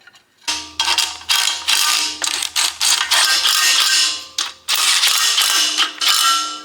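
Impact wrench tightens crankshaft bolts on a Jeep 5.0 stroker engine, loud close hammering bursts in repeated rattling runs separated by brief pauses.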